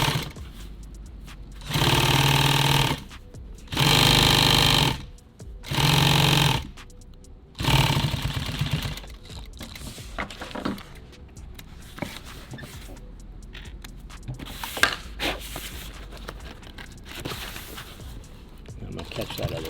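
Sewing machine stitching nylon tactical gear, three steady motor-driven bursts of a few seconds each with pauses between, a shorter run after, then handling noises and a person talking.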